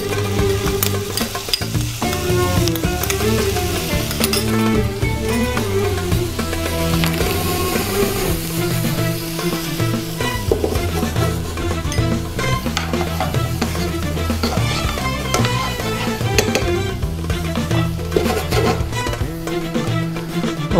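Calamari and cashews sizzle and fry in a pan as they brown, a steady, loud crackle with stirring scrapes throughout and no talking.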